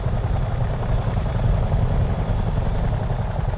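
A helicopter lifts a slung box in Microsoft Flight Simulator 2024, with a loud, steady rotor thump and engine drone running continuously at close range.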